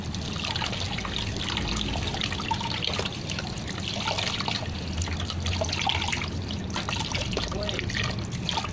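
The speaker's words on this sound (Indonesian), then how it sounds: "lalu bilas menggunakan air mengalir." Tap water runs steadily as hands are rinsed under a faucet, a continuous trickling and splashing close by with faint voices now and then beneath it.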